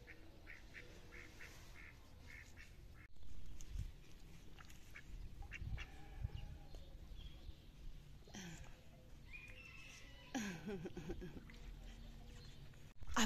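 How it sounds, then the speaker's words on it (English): Ducks on a pond quack in scattered bursts, fairly quiet and a little distant, mixed with other bird calls and occasional faint talk. "Ducks are swimming in the pond."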